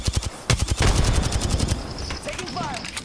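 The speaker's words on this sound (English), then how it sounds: "I am taking fire, friend. Getting shot at." Rapid automatic gunfire rattles in Apex Legends, loud and close, with bursts of shots in quick succession over roughly two seconds, then fading into game effects.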